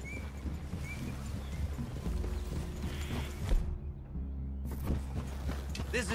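Horses plodding at a walk through a woodland clearing in the video game Red Dead Redemption 2, a steady clip-clop of hooves with creaking tack over low ambient rumble, with a brief quiet stretch midway.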